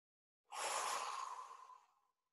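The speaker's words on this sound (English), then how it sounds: "Take another deep breath in and send that breath deep, deep inside your chest" One slow, deep breath drawn in during a spring equinox guided meditation, close and clear in silence, swelling quickly then tapering off over about a second and a half.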